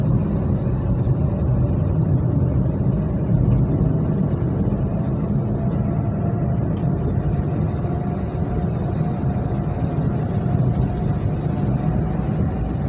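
Jammed traffic on the road from Semarang towards Demak, heard from inside a moving vehicle as a steady, unbroken rumble of engines and road noise with some wind buffeting and no talking.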